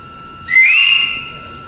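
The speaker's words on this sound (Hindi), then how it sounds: "साहब, ये सीटी को बजाया।" A single shrill whistle blast, loud and close, rises in pitch and holds for about half a second before fading, blown in a stage play scene with no talking over it.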